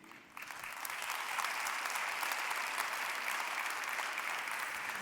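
Audience applause in a conference hall, starting softly and quickly swelling into steady, dense clapping that continues at an even level without any talking.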